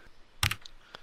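A short cluster of keyboard key clicks while typing an emoji in the game Content Warning, one brief burst in the middle followed by a faint single tap near the end, quiet and close.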